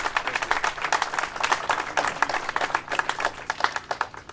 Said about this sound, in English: So can we all give Councilmember Bob Holden a big round of applause for this?